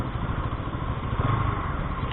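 A Bajaj Pulsar NS200 (2024) motorcycle engine rumbles steadily nearby on a test ride, a low, throaty drone holding at a constant pitch throughout.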